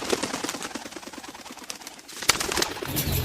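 Racing pigeons in a loft, soft repeated cooing and bird calls close by, with a brief sharp rustle partway through and a low murmur of the birds continuing to the end.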